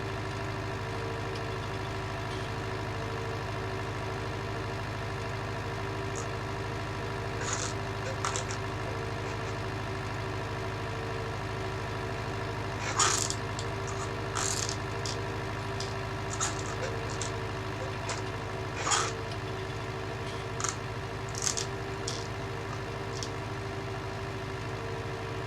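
A tractor engine idles steadily at a low, even drone, with a few faint clanks and knocks on top and no speech.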